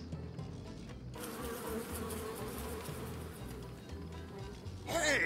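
Bees buzzing in the video game Deponia Doomsday, a close, steady swarm drone that starts after a short quieter stretch and continues for several seconds, with a brief brighter burst at the end and no talk.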